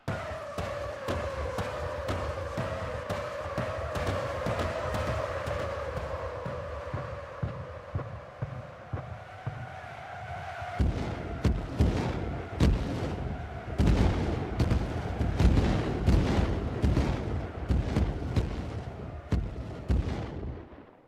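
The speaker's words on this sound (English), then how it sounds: "the bigger the base, the easier this is for the MLRS to hit" MLRS rockets pound a metal base in Rust, a rapid, relentless string of sharp impacts and thuds over a steady engine-like hum, growing denser and heavier in the second half.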